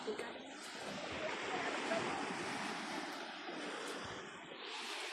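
Sea waves wash onto a beach in a steady broadband roar, with wind buffeting the microphone throughout and no clear individual breakers standing out.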